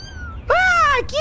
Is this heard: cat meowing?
yes